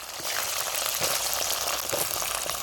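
Brinjal sizzling in hot oil with fennel seeds in a village kitchen, a steady dense crackling hiss throughout, close and fairly loud with no talk.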